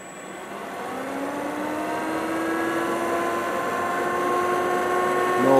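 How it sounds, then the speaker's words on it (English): Electric motor of a BMW EV conversion, running out of gear on a drivetrain test as the throttle is pressed, giving a rising whine that climbs steadily in pitch and grows louder toward the end, heard alone without talk. "I have the car switched on, so I'm just gonna press the throttle here"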